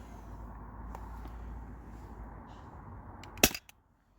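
A modded Sabre home defense launcher running on a low-pressure CO2 tank fires a single sharp, loud shot near the end, followed by a brief rattle, after a steady low hiss.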